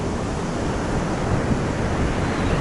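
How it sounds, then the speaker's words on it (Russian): Heavy ocean waves crash in a continuous loud roar of surf, with wind noise buffeting the microphone and no break in the sound. "Адские волны. Описать невозможно."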